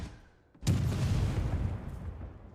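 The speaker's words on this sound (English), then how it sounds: "I love the explosion." An explosion sets off with a sudden loud onset after a quiet moment, followed by a sustained heavy rumble that fades slowly.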